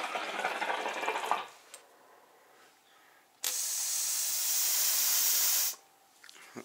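A Starbuzz Carbine hookah leaks air with a loud, steady hiss in two long bursts, separated by a quieter gap with no voices.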